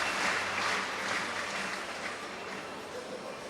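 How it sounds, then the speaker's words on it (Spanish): Audience applause for a stallion at an indoor horse show, a steady diffuse patter of clapping from a crowd in a large arena that eases slightly toward the end. "Un aplauso para AN 416."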